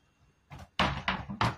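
A household door is pushed shut in a home at night, giving a quick creak then a couple of close, solid thuds as it closes and latches.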